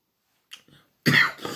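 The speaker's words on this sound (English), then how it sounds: "Sorry about the coughing." A soft throat noise, then a short silence and a harsh, close cough with a brief tail.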